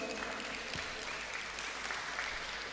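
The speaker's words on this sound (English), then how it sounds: "Round of applause for him," An audience at the Ukiyo Literature Festival applauds for Martin Thokchom, bookstore owner, giving a brief, even burst of clapping that holds steady and moderately loud throughout.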